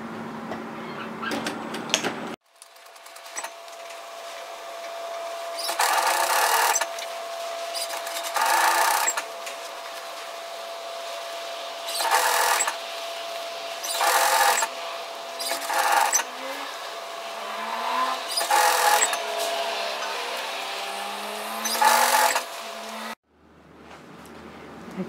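Domestic sewing machine running the side seam of a sun hat in repeated short bursts of fast needle clatter, each a couple of seconds long, separated by quiet pauses, close and clear with no talk.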